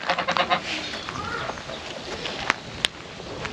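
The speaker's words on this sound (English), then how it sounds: "And our Sebastopol geese, keeping guard." Sebastopol geese honk in a short burst of nasal calls at the start, followed by quieter rustling background and a couple of sharp clicks.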